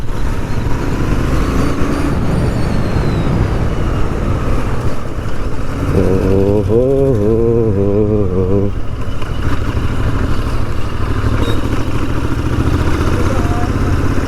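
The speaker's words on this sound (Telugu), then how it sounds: "ఎగ్జాస్ట్ నోట్ కూడా చూడొచ్చు మీరు, చాలా రెట్రో సౌండ్ అయితే వస్తుంది మీకు దీంట్లోంచి" A Royal Enfield Continental GT 650 engine idles and revs nearby, a steady throaty exhaust rumble with a brief rising rev in the middle, no talking.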